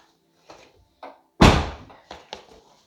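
A BMW car door is swung shut with one loud, solid slam, set between a few softer knocks and handling thuds close by.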